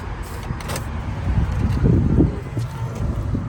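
Rear hatch of a white 2014 Honda CR-V EX-L AWD being opened: a brief mechanical whir and clunk rising around the middle, close by, over a low steady background hum.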